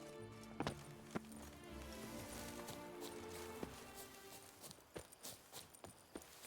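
Roach, a horse in The Witcher 3, trots along with rhythmic hoof clip-clops, fairly steady then looser and more scattered toward the end, set against a low in-game ambient bed.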